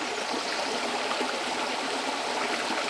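Stream water flows continuously, a dense, even rushing and trickling hiss that stays steady and fairly close from start to end, with no voices over it.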